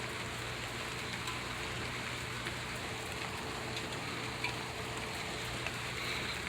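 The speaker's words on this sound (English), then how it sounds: "Look, it's raining outside." Rain falls outdoors in Fresno, California, a steady, soft hiss of drops hitting the ground that holds at one level throughout with no voices.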